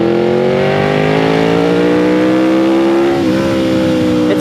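A 200 hp Yamaha Vmax 1700 Gen 2 cruiser motorcycle pulls hard in third gear at about 45 mph, its engine note rising steadily and loudly before a brief dip and recovery near the end, with no talking.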